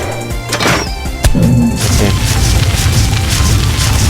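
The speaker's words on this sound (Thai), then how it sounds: "เราก็จะยิงล่อเขาให้ลงมาในน้ำนะครับ" Weapon fire in the Ark Mobile survival game, shooting to lure a titan down into water: a loud booming blast at the start, then another heavy crashing impact, followed by dense, rumbling game noise.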